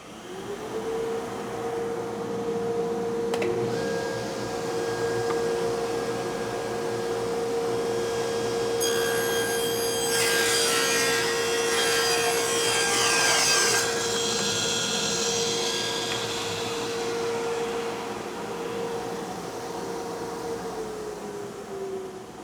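A woodshop saw runs steadily with a dust collection system roaring alongside, holding a loud continuous hum while a brief stretch of harsher cutting noise rises in the middle.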